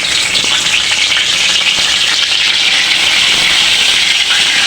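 Whole spices and bay leaves frying in mustard oil in a pan, a loud, continuous bright sizzle with crackling spits throughout, close up and steady, with no voices.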